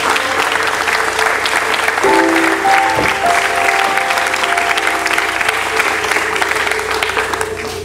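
Wedding guests break into sustained applause at a wedding celebration, a dense wash of clapping that holds steady for several seconds, with a few brief tonal sounds rising above it and the crowd fading slightly at the end.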